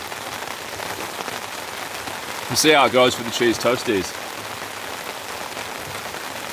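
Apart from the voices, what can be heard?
heavy rain falling steadily on campsite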